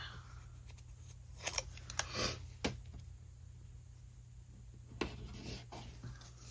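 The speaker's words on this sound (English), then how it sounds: "I'm just going to cut off the extra off the bottom here." Scissors snip through the extra paper at the bottom of a planner page, a few quiet, separate cuts close by with rustling paper between them over a faint steady hum.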